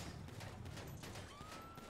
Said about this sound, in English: Who the fuck shooting? Hey, quit shooting